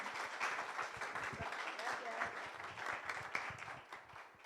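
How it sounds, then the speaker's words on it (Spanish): Audience applause for a guest speaker at the Centro Libanés in Mexico, a dense steady patter of many hands held at a moderate level for several seconds, with a murmur of voices mixed underneath. "Pues un aplauso para Pat."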